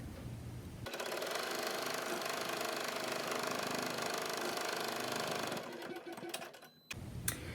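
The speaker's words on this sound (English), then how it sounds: "And then we're going to sew the top stitching." An embroidery machine sews top stitching on a contour mask held in the hoop, a fast steady mechanical rattle running for several seconds before stopping, followed by a few small clicks.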